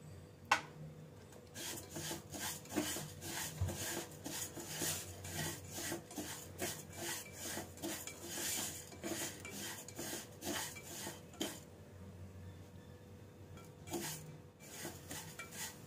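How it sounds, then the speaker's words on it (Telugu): Poppy seeds and dry fruits are fried in a pan for semiya payasam, with a run of dry scraping and rubbing strokes from stirring, steady and fairly faint, and no talking. "గసగసాలు డ్రై ఫ్రూట్స్ తోటి ఫ్రై చేసుకోవాలి"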